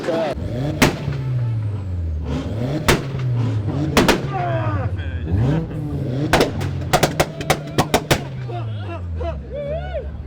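A revving engine roars and drops in pitch while loud exhaust pops crack repeatedly like gunshots, bunching into rapid bursts near the end, with people talking faintly underneath at a car meet.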